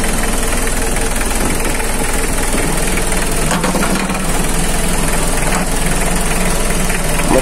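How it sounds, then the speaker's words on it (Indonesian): A 2005 Mitsubishi L300 box van's engine idles, making a loud, steady, close rumble with an even mechanical chatter and no change in pace. "Mesinnya garing, tidak ada rembes, dan suaranya pembanding ya, tidak ada ngopek"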